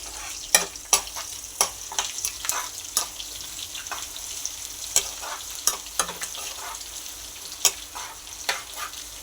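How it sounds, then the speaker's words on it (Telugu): Tempering spices hiss and sizzle in hot oil in a kadai, a close, continuous frying crackle punctuated by sharp spoon-scrape and stirring clicks at irregular intervals, with no talk. "ఆయిల్ మరిగిన తర్వాత ఈ పోపు ఇలా వేస్తున్నానండి"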